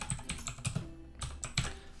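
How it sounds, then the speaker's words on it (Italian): Typing a terminal command on a computer keyboard, a quick run of close, clicky keystrokes in an irregular rhythm, with no talk over them. "quindi basta digitare"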